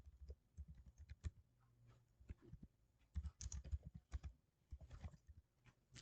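Someone typing a search on a computer keyboard, quiet uneven bursts of clicking keystrokes separated by short pauses.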